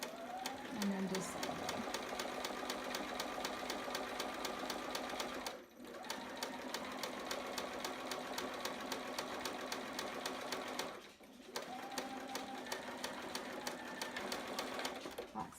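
A sewing machine runs steadily, stitching a quarter-inch seam on a child's sitter romper, a close, rapid mechanical whir broken by two short pauses, with someone talking over it.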